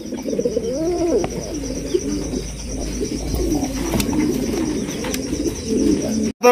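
Fancy pigeons at a pigeon market coo continuously and loudly close by, several birds overlapping in rolling, throaty calls over low background noise.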